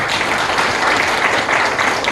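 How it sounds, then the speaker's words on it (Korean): An audience at a Korean forum on population aging and low birth rates in Jeju gives sustained, dense applause throughout, with no gaps or pauses. "한번 박수 한번 주시자면요"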